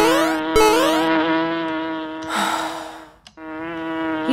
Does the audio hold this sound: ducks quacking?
no